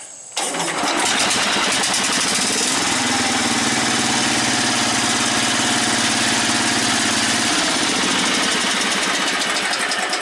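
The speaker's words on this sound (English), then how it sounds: "Let's see if it'll start." A small lawn tractor engine with a leaking Briggs & Stratton Flo-Jet updraft carburetor sputters and catches without choke, then runs loudly and steadily, roaring at a constant idle close by for several seconds.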